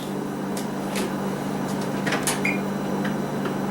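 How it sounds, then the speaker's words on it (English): Controls being set on a kitchen oven before preheating to 400 degrees, with a few soft clicks and a short electronic beep over a steady low appliance hum. "This is the sound of me setting the oven."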